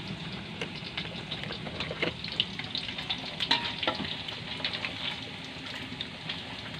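Potato fries frying in hot oil, a steady, moderately quiet crackle and bubble with scattered small pops throughout.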